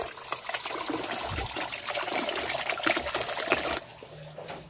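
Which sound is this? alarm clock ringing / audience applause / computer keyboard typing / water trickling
water trickling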